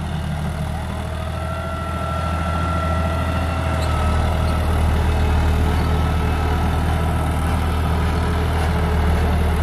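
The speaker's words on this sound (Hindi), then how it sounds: "अब आप देख सकते हो फ्रंट लिफ्टिंग करता है ट्रैक्टर" A John Deere 5310 4WD tractor engine runs continuously at a steady, loud idle, with a deep low rumble and a constant mechanical drone. No voices can be heard over it.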